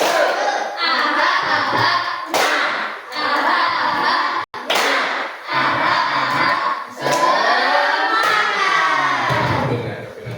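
A classroom audience claps hands in rhythmic bursts for a presentation, with children's voices shouting and chanting along, loud and close throughout with brief pauses between rounds.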